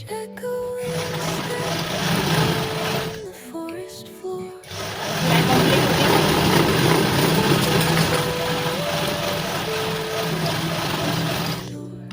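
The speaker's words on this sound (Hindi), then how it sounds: "ऐसे मोड़ दूँ, इस पर सिलाई चला देंगे इसके" A sewing machine runs in steady bursts as it stitches a folded fabric belt, the motor hum continuous through most of the stretch with a brief pause near the start and background music underneath.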